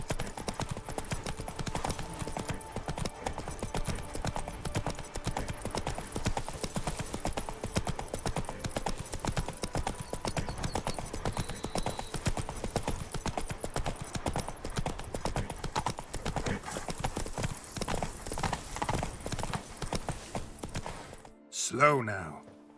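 Horse trotting steadily in The Witcher 3 video game, hooves giving a continuous brisk clip-clop rhythm close by, with voices talking over it and the hoofbeats slowing near the end.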